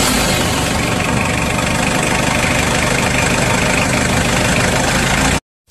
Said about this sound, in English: Motorhome.